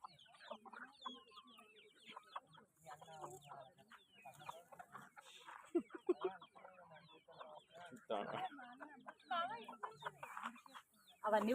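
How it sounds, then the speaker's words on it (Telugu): Hens cluck and squawk through a lively stretch of play as a child chases them. Bursts of clucking come near and far, mixed with talk and calls from people, with louder flurries toward the end. "అవన్నీ కోళ్ళు పడుతున్నాయి"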